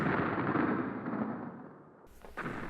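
Explosions and gunfire in the Tomb Raider: Chronicles video game, level The 13th Floor: a dense, loud roar of blasts and shots that fades slightly, then a sharp new burst near the end.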